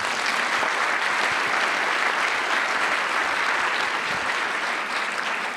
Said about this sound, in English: I have to tell you, I wasn't expecting this much clapping.